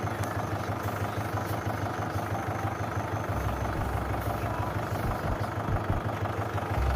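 A tractor engine idles steadily beside a paddy field while rice is being loaded, a close, continuous low rumble that holds evenly throughout with no voices.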